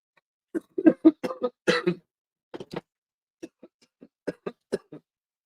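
A person coughs repeatedly in close, harsh bursts, a dense cluster early on followed by scattered single coughs and throat clearing, fairly near and alone without other sound.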